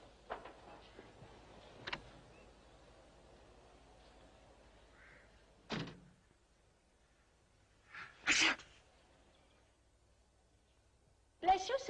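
A single sharp sneeze rings out in a quiet room, with a few softer knocks and murmurs scattered before and after it.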